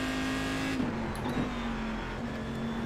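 An electric race car in the iRacing video game drives with a constant high-pitched electric whine over a steady motor drone, the pitch dipping slightly as it brakes and corners.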